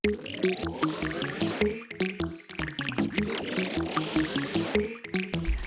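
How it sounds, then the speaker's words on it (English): An extra Serum synth layer doubling the same MIDI melody of a beat plays alone: quick, bouncy repeated notes with a glassy, watery character and rising sweeps, looping steadily and fairly loud. "added one more serum, sounds like this."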